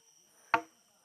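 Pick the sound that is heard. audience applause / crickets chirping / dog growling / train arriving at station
crickets chirping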